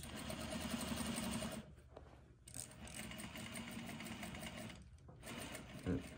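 A Juki DDL-8700 industrial sewing machine runs in fast steady bursts, with two short pauses between stitching runs, close and fairly loud, and a person talking briefly near the end.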